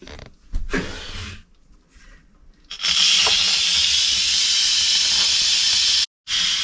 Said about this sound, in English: I'm about to release the pressure out of the Instant Pot